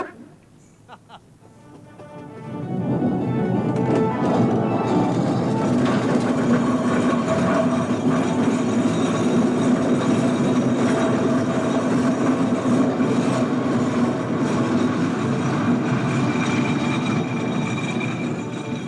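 A showman's steam traction engine works at a steam fair, giving a loud, steady mechanical rumble and chuff that builds up after a quieter opening and then runs on continuously, close by.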